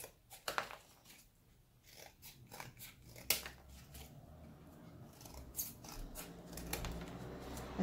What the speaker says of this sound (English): You're going to have to cut just the width of this off